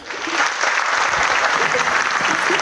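An audience at a music-hall show applauds, a steady, dense wash of hand claps that holds at full strength throughout, with faint voices mixed in.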